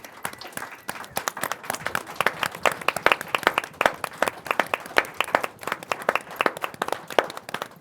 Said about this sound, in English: Let's do a round of applause for staff.